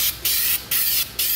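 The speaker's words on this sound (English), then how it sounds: "I can't wait to see the first spray" Spray coating is applied to a car fender for a widebody kit. Three short, loud hissing bursts come from close by, separated by brief pauses.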